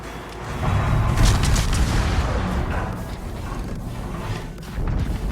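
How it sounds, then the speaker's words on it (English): Battleship Ohio shell striking in a naval video game, a heavy rumbling boom that swells after a second and rolls on with low mechanical grinding, then a second thump near the end. "And that was another Ohio shell"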